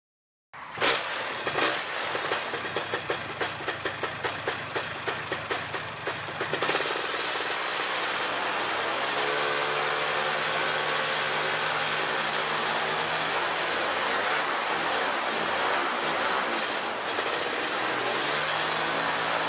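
A Polini THOR 250 DS paramotor engine sputters to life with rapid pulsing firing, then settles into a loud, steady running drone near idle during carburetor adjustment, with slight speed wavering throughout.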